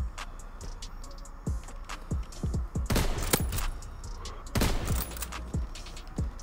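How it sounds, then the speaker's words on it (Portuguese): World War II shooter video game gunfire: sharp cracks in rapid clusters, broken by a few heavier, louder blasts, alone without talk. "Que tiro foi esse, galera?"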